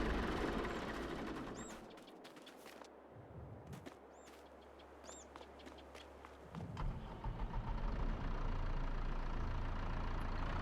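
A John Deere tractor engine runs in a farming video game, a steady mid-pitched drone with some faint clicks over it, growing louder and fuller during the last few seconds.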